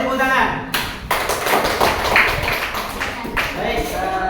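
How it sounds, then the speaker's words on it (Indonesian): A class in a vocational school claps after a group presentation, a loud burst of hand clapping and thumps that rises and fades with voices mixed in. "Kasih tepuk tangan"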